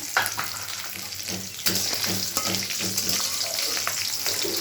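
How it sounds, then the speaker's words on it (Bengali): Black cumin seeds and green chilies fry in hot oil with a steady, bright sizzle and crackle, stirred with occasional scraping knocks from a utensil; no one speaks. "তেল গরম হয়ে গেছে কালো জিরে দিয়ে দিলাম কাঁচা লঙ্কা দিয়ে দিলাম"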